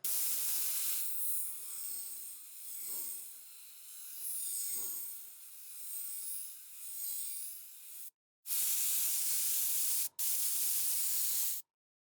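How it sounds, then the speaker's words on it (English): An airbrush sprays grey paint onto a Raging Heroes Altar of the Succubi miniature. Close, airy hissing comes in short pulsed bursts, then turns into longer continuous blasts broken by brief pauses. "I want to show you how far away I'm actually pressing, triggering the airbrush from"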